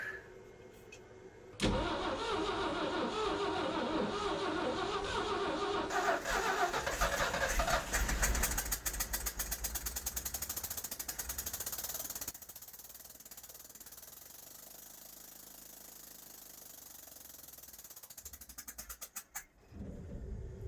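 Gasoline engine fed only from a filled carburetor float bowl fires up loud after cranking, roars and stutters unevenly, then settles into rough sputtering running before dying out near the end.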